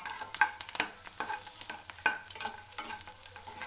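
Peanuts frying in a little groundnut oil in a pan while being stirred, a steady soft sizzle broken by repeated scraping clinks of the spoon, close and fairly quiet, with no talking.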